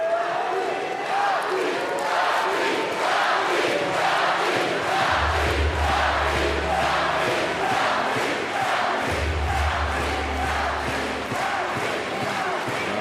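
A large arena crowd at a Paris 2024 Paralympic powerlifting final roars and cheers continuously and loudly as a French lifter gets under a 209-kilogram bar, with deep rhythmic rumbles of stamping or chanting.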